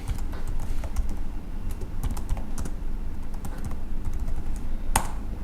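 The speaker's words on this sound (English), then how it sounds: "I'm using the tab key to move forward" Rapid clicking keystrokes on a computer keyboard during spreadsheet data entry, dense and continuous with a few sharper key hits, close and fairly loud with no voices.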